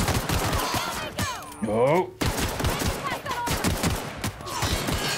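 Rifle gunfire in the video game The Outer Worlds, a dense run of sharp shots and impacts with a brief warbling tonal effect partway through, mixed under a man's spoken reaction.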